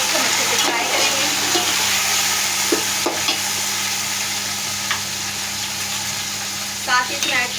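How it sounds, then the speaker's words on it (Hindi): One kilogram of mutton frying in a pan, with a steady broad sizzle and occasional scrapes and clinks of stirring. It stays close and continuous throughout, with no talk. "मटन जो कि 1 kg है। अब इसको अच्छे से फ्राई करेंगे।"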